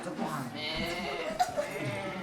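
A carol singer imitates a goat's bleating with a wavering, nasal voice during a caroling performance, the bleat sustained for about two seconds in a slightly echoey room.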